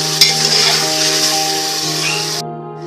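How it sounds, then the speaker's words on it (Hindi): Mutton and onions sauté in a pan, with a steady close sizzle and a faint stir of a spoon running throughout before the sound cuts off abruptly near the end. "हम इसे अच्छे से सौते करेंगे जब तक पूरी प्याज इसमें अच्छे से कोट ना हो जाए"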